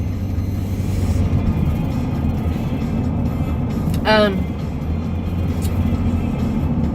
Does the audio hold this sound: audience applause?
no